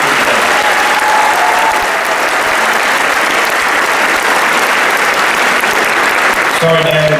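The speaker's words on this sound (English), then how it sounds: "Can we get a round of applause for all the mothers here today?" A graduation ceremony crowd applauds steadily and loudly, a thick continuous roar of clapping that fills the hall for about seven seconds, with a voice briefly audible near the end.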